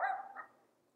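A single short dog bark, close and fairly loud, fading quickly into silence.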